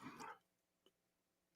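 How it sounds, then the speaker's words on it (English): A dog barks indoors in a couple of short, faint, separated yelps, with quiet room tone in between. "That's my dog."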